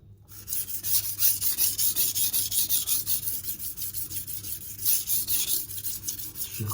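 A knife is drawn over a Venev resin-bonded diamond stone, steady rhythmic gritty rasping strokes repeating close up for several seconds with no talk.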